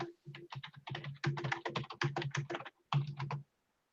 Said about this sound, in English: Feverishly typing.